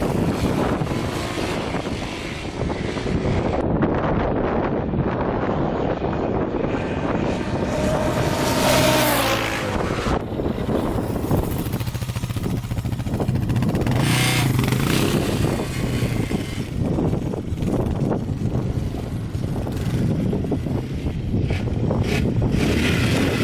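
A Yamaha Raptor 660R ATV engine revs and pulls while being ridden outdoors, rising and falling in pitch with throttle changes and wind rush, no talk.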